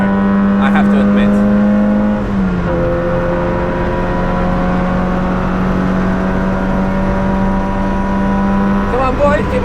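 A Nissan Micra K11 racing on the Nürburgring holds a loud, close, high-revving engine scream, dipping briefly at a gear change before climbing back to a sustained whine.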